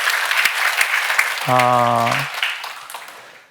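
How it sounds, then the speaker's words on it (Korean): Congregation applauding at a Sunday church service, a steady wash of clapping throughout with a brief sustained tone or voice overlapping near the middle. "우리 그분들에게 격려의 박수 함께 보내면 좋겠습니다"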